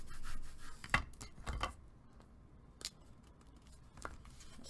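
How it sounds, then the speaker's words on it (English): A large burnishing tool rubs and scrapes over a freshly applied piece in a Halloween craft project, with a few sharp scratchy strokes between quieter stretches of close, dry rubbing and no voices. "I'm going to take my large burnishing tool here"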